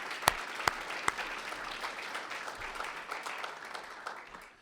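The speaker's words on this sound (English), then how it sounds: "So how about a big round of applause for Chief DeGuerra, Chief Feld, and Tom Powe" Audience applause at a village mayor's State of the Village address: a few sharp individual claps at the start swell into steady, moderately distant clapping from a crowd, which fades out at the end.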